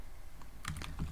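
A short burst of typing on a computer keyboard, about half a dozen quick key clicks clustered together, fairly quiet and close, with no voice.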